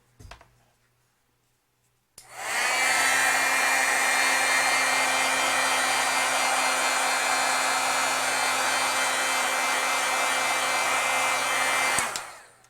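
A heat tool blows steadily for about ten seconds to heat set freshly stamped ink, a loud, even whooshing hum that starts abruptly after a short quiet pause and cuts off cleanly at the end.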